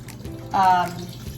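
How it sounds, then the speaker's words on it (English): Vegan mushroom broth pours into a soup pot for cream of mushroom soup, a short liquid splash and gurgle swelling for under half a second at moderate loudness. "let's add our mushroom broth"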